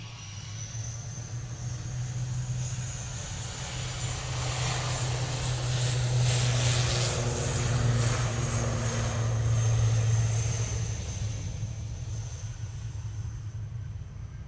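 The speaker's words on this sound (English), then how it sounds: "Also got that epic Virgin Atlantic going off to Bridgetown. That should be one hell of a spool up for you." Virgin Atlantic airliner bound for Bridgetown at Manchester Airport spooling up for takeoff, a steady loud jet roar with a low rumbling drone that swells toward the middle and holds, no voices.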